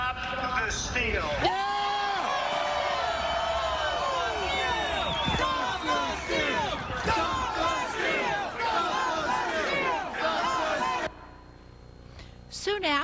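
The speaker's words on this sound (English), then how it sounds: "Here's what that chant sounded like from the crowd's perspective." A large crowd chants and shouts in unison at a political rally, a dense roar of many voices with rhythmic cheering throughout, loud and close, before dropping to quieter crowd noise near the end.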